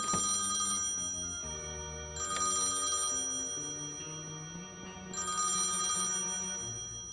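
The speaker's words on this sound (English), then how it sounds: "Pick up the phone." A telephone rings in the point-and-click adventure game Thimbleweed Park, in three bright bursts of bell trilling over a steady synth music bed.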